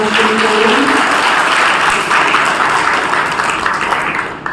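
Dense, sustained applause from an audience at a Brahma Kumaris gathering fills the space loudly and evenly, a continuous wash of many hands with no clear individual claps.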